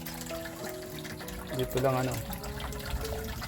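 Water flowing and trickling from a spring source, a soft continuous wash beneath nearby voices talking, with a brief louder splash in the middle.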